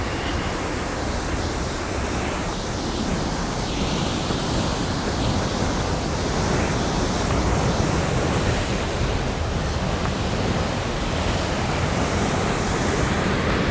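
A waterfall at Brown Mountain Dam roars after heavy rain, a loud, dense, continuous rush of falling water heard up close with no talking.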